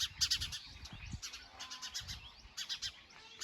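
Sparrows chirp near a nest in a leafy tree by a dam at a village temple, with quick bursts of high twittering calls coming and going at moderate distance.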